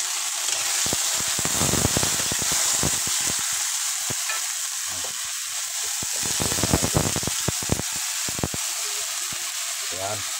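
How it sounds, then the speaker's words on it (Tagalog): Mushrooms and leafy greens sautéing in a pan, a steady loud sizzle with bursts of stirring and scraping throughout, close by. "Yan, gisadong kabuti na may talbos"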